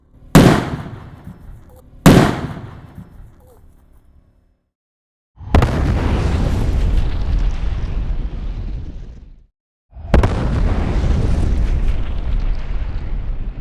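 Hand grenades going off outdoors: two sharp, heavy blasts close together, then after a short silence two long, loud roaring bursts of rumbling noise that each last several seconds.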